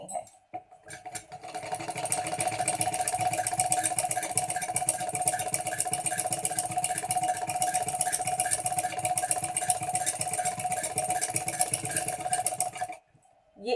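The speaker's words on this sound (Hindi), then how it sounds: "इसके किनारे पर भी अब एक एक आपने सिलाई लगा देनी है।" Sewing machine runs continuously for over ten seconds, stitching along the edge of the fabric for a placket frock, a close, steady, fast whirring hum that starts and stops abruptly.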